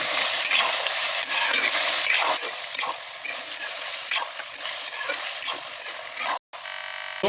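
A spoon scrapes and stirs mutton with ginger, garlic and salt frying in a karahi for Lahori mutton karahi, a loud continuous sizzle with rhythmic metal scrapes, cut by a brief silence near the end.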